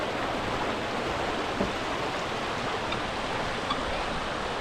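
Steady, broadband rush of water pouring at a hidden waterfall on a Migori to Kuria route, a continuous even roar with no voices over it.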